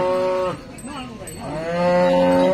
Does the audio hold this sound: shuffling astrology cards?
no